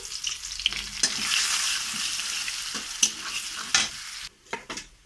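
Garlic cloves and bay leaves fry in hot oil in a wok, giving a bright steady sizzle broken by a few sharp scraping clinks of stirring, then quieter gaps as the spatula moves.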